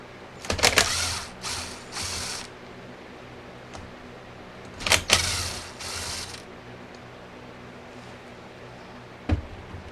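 An impact driver backs screws out of a Briggs & Stratton engine ignition coil in two short buzzing, rattling bursts several seconds apart, loud and close over a steady background hum, with a faint click near the end.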